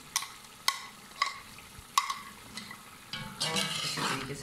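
A spoon scrapes and knocks rhythmically against a pot as yogurt mixed with biryani masala is stirred for chicken biryani. The stirring then gives way to a rising, steady sizzle of the masala frying.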